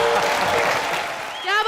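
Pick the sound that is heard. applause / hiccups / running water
applause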